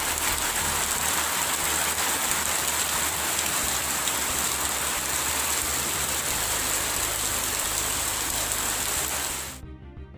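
Heavy rain pours down with strong wind in the Mudigere, Koppa and Kalasa area, a dense steady hiss of downpour close by, continuous until it cuts off abruptly at the end.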